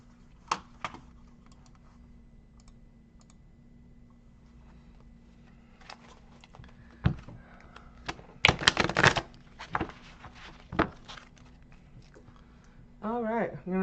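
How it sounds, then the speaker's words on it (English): Tarot cards are shuffled during a live zodiac reading. Sparse, soft flicks and riffles come first, followed by a dense burst of card shuffling, and a voice comes in at the end. "Let me shuffle the cards."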